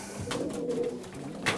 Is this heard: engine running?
no